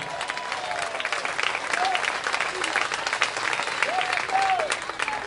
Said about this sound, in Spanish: dale fuerte este aplauso al Señor.